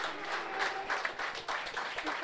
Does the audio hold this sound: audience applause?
yes